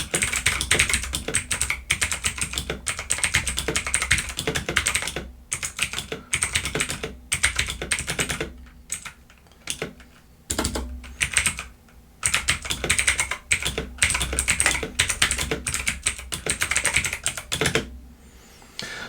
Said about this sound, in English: let's see the keyboard in action.